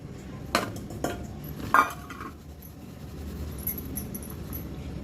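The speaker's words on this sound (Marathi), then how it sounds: "हे दोन भांडी आपण घेतलेली आहे" Metal cooking pots handled in a home kitchen while chakli dough is prepared: a few sharp clanks near the start, then softer rattling and scraping, with no talk.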